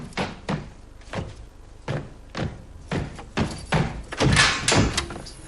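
A door opening by itself in a robot film, heard as a series of hard wooden thunks and knocks in a steady rhythm, growing louder and denser toward the end, close with no talk.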